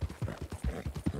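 Horse hooves clip-clopping at a steady trotting rhythm in the Western roleplay game RedM, a Nokota horse, close and fairly loud, with no talk over it.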